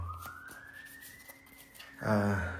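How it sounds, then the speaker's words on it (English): A distant siren from passing emergency vehicles slowly rises in pitch in the background, then is covered by a burst of louder nearby noise near the end. "ambulance in the background, cops in the background"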